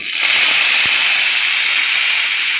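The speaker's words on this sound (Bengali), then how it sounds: "তেলের মধ্যে দিয়ে দিচ্ছে খেসারির কড়াইয়ের শাকগুলো" A loud, steady hiss of grass pea (khesari) leaves sizzling in hot oil, starting abruptly and continuing evenly throughout.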